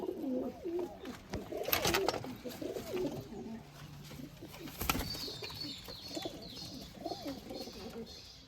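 Andhar and old-line Giribaz pigeons kept at a home loft coo softly and repeatedly, making low, murmuring rolls that overlap at a fairly quiet, moderate distance, with occasional faint rustles.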